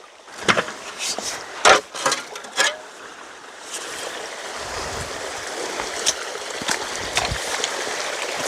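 Irrigation water flows onto a plot of farmland in a steady, moderate gurgling rush, broken early on by several sharp knocks and clatters.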